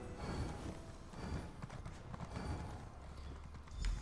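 Horse hooves clip-clop in a steady running rhythm while riding through a town in The Elder Scrolls Online, moderately loud and continuous, with a brief louder thud near the end.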